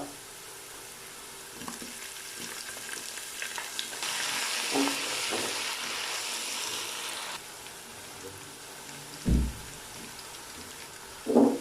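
Ginger garlic paste drops into hot oil with browned onions and flares into a loud, steady crackling sizzle, then quietens, with a couple of sharp utensil knocks near the end.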